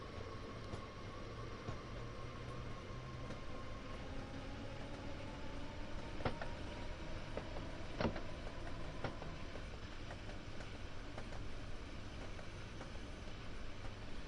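Train running in Train Sim World 2 on PS5, a continuous rumbling cab and rail noise with faint rhythmic clicks of wheels over joints throughout.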